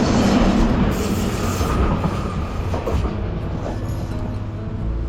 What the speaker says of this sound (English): just being held up by a train